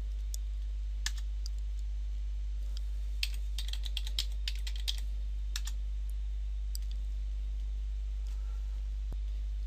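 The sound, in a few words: typing a terminal command on a computer keyboard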